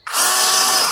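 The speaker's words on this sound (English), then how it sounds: "The world's cheapest drill. This is the one that I bought for my polishing" A cheap electric drill used for polishing whirs up abruptly and runs at a steady, close, high-pitched whine for about a second.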